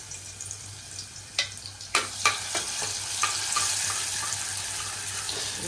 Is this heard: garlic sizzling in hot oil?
yes